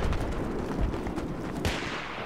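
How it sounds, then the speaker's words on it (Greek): Sniper rifle shot in a video game: a sharp, fairly faint bang with a quick decaying tail among other muffled game noise. "Τον ακούς το σνάιπερ, έτσι του μπαμ."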